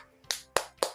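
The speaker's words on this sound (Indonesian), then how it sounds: "Tepuk semangat." A sixth-grade class claps out a quick, rhythmic spirit clap: three sharp, bright claps in a short burst, close and crisp, with no talking.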